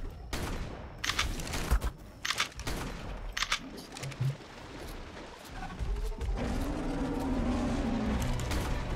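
Bursts of gunfire in the video game ARK: Survival Evolved, during a boss battle: several quick volleys of shots over the first few seconds, then a steadier mechanical rumble, loud and close, with no talk.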